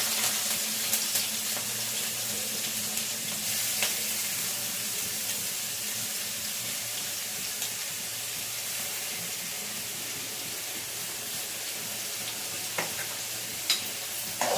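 Onions and green chillies frying in a pan for egg curry, a soft continuous sizzle with faint occasional clicks and stirring, quiet and steady throughout.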